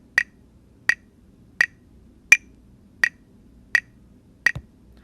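A steady metronome clicks in the Tonal Energy app, seven sharp, evenly spaced ticks about 0.7 seconds apart, crisp and close against near silence.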